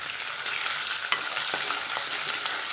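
Onions and ginger paste frying in oil for an eggplant and tomato gravy curry, a steady close sizzle with faint scraping of a stirring spoon, no voices.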